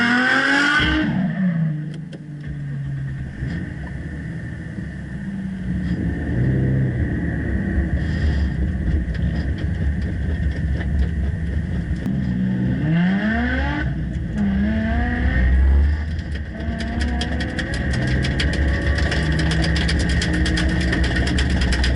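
A Mitsubishi 3000GT drifting on a race track, its engine revving loudly and continuously with rising and falling pitch sweeps as it accelerates and slides, heard close with no talk.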